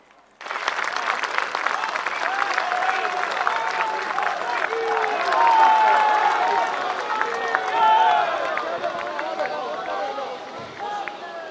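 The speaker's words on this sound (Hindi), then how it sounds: "उनका जोरदार तालियों" A large crowd gives loud, sustained applause to welcome Prime Minister Narendra Modi at a Netaji birth anniversary event at the Victoria Memorial, Kolkata. The dense clapping swells and continues for over ten seconds, with faint crowd murmur mixed in.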